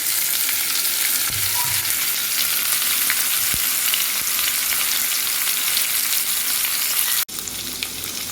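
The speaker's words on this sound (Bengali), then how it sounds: "আলুগুলো আমি ভেজে নেব হালকা আঁচে জাস্ট নরম করে ভেজে নেব" Chopped potatoes frying over low heat for a beans and potato masala fry, with a continuous close crackling sizzle and a few light stirring knocks, steady throughout before a brief break near the end.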